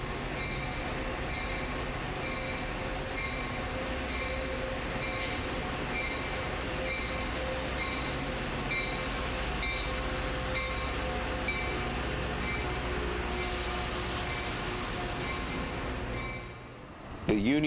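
Chicago Metra commuter trains at a busy station: a continuous heavy rail rumble with a steady metallic whine and a brief squeal, loud and close, fading at the end.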